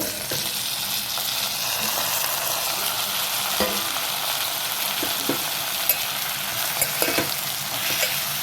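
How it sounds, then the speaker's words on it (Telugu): Cut eggplant, drumstick pieces and a tomato sizzling in a pan with chili powder and turmeric, a steady close hiss with scattered spatula stirs and light clinks, no one speaking. "ఇప్పుడు దీనిలోకి నేను కట్ చేసుకున్న వంకాయ, ములక్కాయ, ఒక టమాటా వేసేసుకుందాము"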